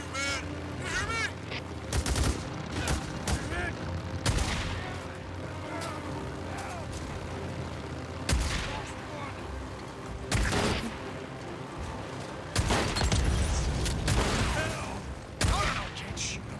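Gunfire in the post-apocalyptic video game Days Gone, with scattered single shots and short bursts among motorcycle noise, some near and loud, others fainter, over a steady engine drone and busy background game sound.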